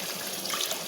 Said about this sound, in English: I'll just put a small amount of water here.